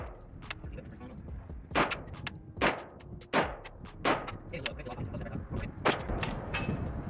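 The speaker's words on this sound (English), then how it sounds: "we're going to go ahead and squeeze a few shots at 25" A Pioneer Arms 5.56 sporter AK underfolder rifle fired at a target 25 yards away: five sharp, unevenly spaced reports over a few seconds, with faint talk in the background.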